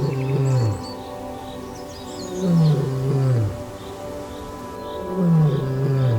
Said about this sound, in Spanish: un rugido profundo rompió el silencio